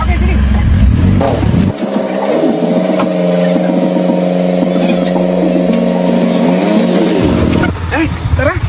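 A motorcycle engine runs at a steady, even pitch for several seconds, fairly close and loud, with people talking over it before and after.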